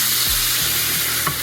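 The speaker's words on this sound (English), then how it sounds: "we're going to pour this syrup all over the top, and you're going to start to see it sizzle" Loud, steady sizzling hiss of hot syrup poured over baklava, with faint crackles throughout, close up and continuous, no voices.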